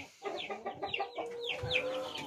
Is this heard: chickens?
yes